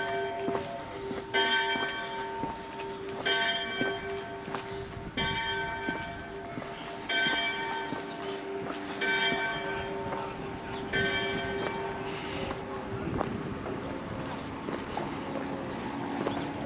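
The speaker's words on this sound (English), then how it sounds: "Oh, and the bell's ringing." A single church bell in Portals Nous, Mallorca, strikes noon at regular intervals of about two seconds, each toll ringing out and fading over a steady background hum.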